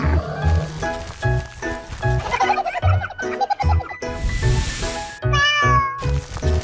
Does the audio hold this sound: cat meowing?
yes